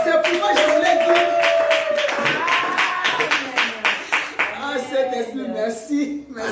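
A congregation at a home prayer retreat claps in praise: rhythmic, fairly loud hand claps build up over a speaking voice, with a preacher talking throughout.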